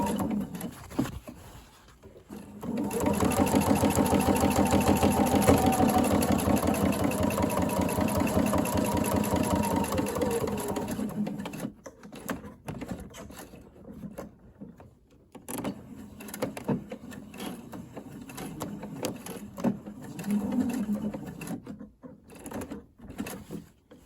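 A sewing machine stitches a welt pocket seam, running in a steady mechanical whir for several seconds before breaking into short stop-start bursts as it stitches forward and back.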